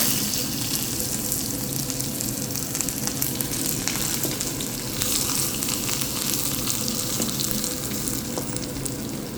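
Shallots and green chillies fry in oil over popped mustard seeds for a green tomato curry, giving a steady, loud, close sizzle with crackling texture that lasts throughout and has no talking over it.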